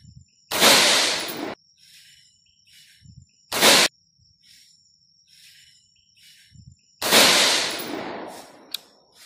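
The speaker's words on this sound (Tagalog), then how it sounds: "Third round, fire when ready." A Bushmaster M16 rifle chambered in 5.56 fires three sharp, loud reports spaced a few seconds apart outdoors, each cracking and then trailing off in a long echo, with quiet background insects between shots.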